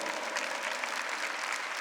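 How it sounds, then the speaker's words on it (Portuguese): Church congregation applauding during a Catholic service, a steady dense wash of clapping from many hands that carries evenly through the whole stretch, with no voices above it. "Pode aplaudir o Senhor?"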